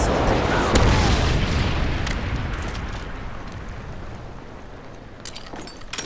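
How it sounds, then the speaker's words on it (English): An airstrike in Call of Duty Modern Warfare 3 lands as a heavy, loud explosion, its deep rumbling boom slowly decaying over several seconds, with faint clicks and small pops afterward. "Friendly airstrike on the way."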